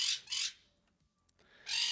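A covered pet bird squawking to be let out, three sharp close squawks, two in quick succession and one after a short quiet gap.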